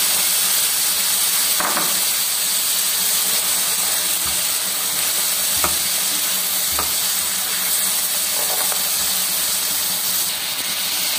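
Peas hit hot oil and spice tempering in a pan, giving a loud, steady sizzle and hiss with a few clinks and scrapes of stirring throughout.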